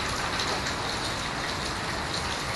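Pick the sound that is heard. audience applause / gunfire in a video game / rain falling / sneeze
rain falling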